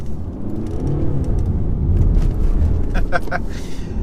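A 2017 BMW 220d rounds a corner with a steady, close engine and road rumble that rises slightly mid-turn, while someone talks over it from inside the car.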